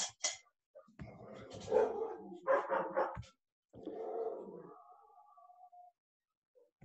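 A pet dog barks and growls aggressively in several loud bursts close by indoors, with a person's voice briefly heard between barks during an online maths class.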